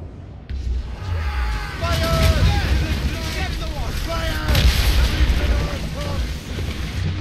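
Naval combat in Assassin's Creed Rogue, with ship cannons booming and gunfire crackling over rushing water and wind. The heavy blasts land repeatedly and loud while someone talks over the battle.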